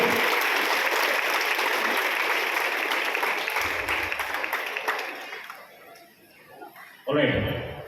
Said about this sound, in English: Can we clap for all of you?